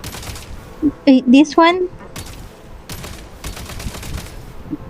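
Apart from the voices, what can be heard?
gunfire in the Genshin Impact video game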